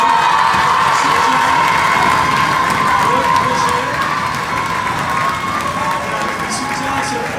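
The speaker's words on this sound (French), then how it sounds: "Vous applaudissez Madame Bassler qui va partir à la retraite" Crowd applauding and cheering for Madame Bassler, a retiring teacher, at a school project gathering; steady, dense clapping mixed with children's shouts and whoops runs loud and continuous throughout.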